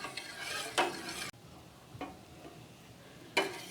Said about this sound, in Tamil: கஸ்டர்ட் பவுடர் சேர்த்ததும் கைவிடாமல் மிக்ஸ் பண்ணிகிட்ருக்கணும்